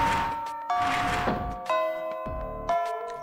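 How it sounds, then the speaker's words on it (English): A school bell in the PSP game Fate/EXTRA chimes through a classroom at Tsukumihara Academy, ringing four clear, resonant ding-dong tones with lingering ring-outs over a soft musical background. "Miss Fujimura barges into the classroom as the bell sounds"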